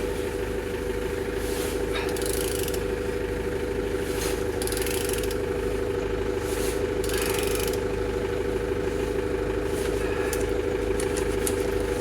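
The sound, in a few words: aircraft engine being turned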